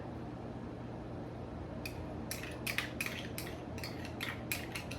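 Mayonnaise and ketchup are stirred into a dipping sauce with a utensil in a bowl. Quiet scraping and clinking strokes begin partway through and repeat in an irregular rhythm over a low steady background hum.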